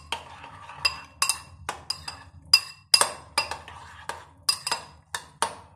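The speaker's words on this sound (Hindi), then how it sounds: "इन सब चीज़ों को हम अच्छे से मिक्स कर लेंगे।" Chopped onion and capsicum tossed in a bowl with a utensil, giving a close run of sharp, irregular clinks and scrapes against the bowl in quick bursts, with no talking.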